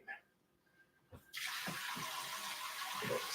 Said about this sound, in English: So first thing, get my hands clean.